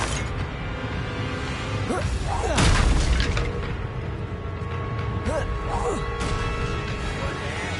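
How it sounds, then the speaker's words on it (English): A Confringo fire spell bursts in Hogwarts Legacy, a single loud booming explosion with a whooshing swell mid-clip, set against continuous game ambience and music with a voice speaking. "Confringo."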